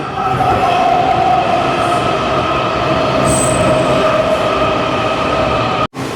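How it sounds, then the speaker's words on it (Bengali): A metro train in Washington, D.C. rumbles loudly and steadily into a station, its wheels giving a sustained high squeal, then the sound cuts off abruptly near the end. "যেই ট্রেন ঢুকছে এই লাইটগুলো সব জ্বলে যাচ্ছে"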